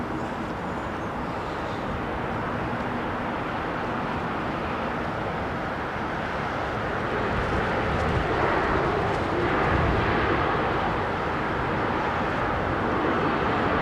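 An airliner on landing approach at London Heathrow gives off a broad, steady jet roar that swells slightly toward the end. It sounds continuous and moderately near, and no one speaks.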